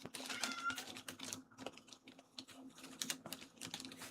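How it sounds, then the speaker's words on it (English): A pet cat meows faintly in a room against a steady wash of computer keyboard typing, its cries brief and low in level beneath the clatter. "she's just gonna sit there and meow and the whole time"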